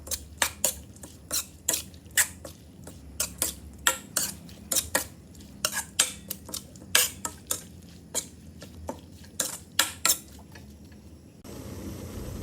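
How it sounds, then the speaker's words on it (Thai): Meat being stirred with curry paste and seasonings in a pot, a dense series of sharp clinking utensil scrapes against metal at a brisk irregular rhythm, close and alone, ending with a brief hiss. "จะคัวเนื้อเครื่องแกงกับเครื่องปรุงให้เข้ากันครับ"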